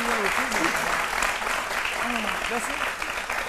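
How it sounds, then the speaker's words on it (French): A TV studio audience on an Ivorian midday show applauds loudly and steadily throughout, with a host's voice briefly audible over the dense clapping. "On applaudit très fort Jean-Michel Lénard."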